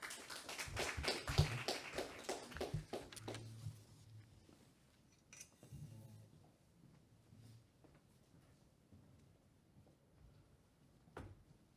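A small conference audience applauds in a quiet burst of clapping that lasts a few seconds and fades out, leaving faint room noise.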